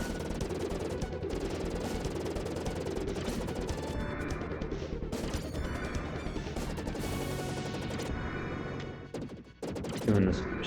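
Rapid machine gun fire from Contra III: The Alien Wars blares through nearly the whole stretch, dense and continuous amid explosions and game music, with a brief dip near the end before the racket resumes.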